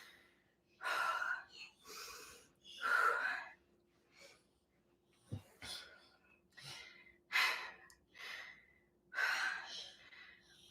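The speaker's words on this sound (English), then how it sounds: "Slow exhale out your mouth." Heavy, rhythmic breathing during a glute workout, with several loud, airy inhales and slow exhales out the mouth repeating at close range, separated by short quiet gaps.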